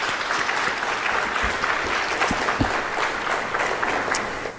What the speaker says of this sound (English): I think they're worth a round of applause.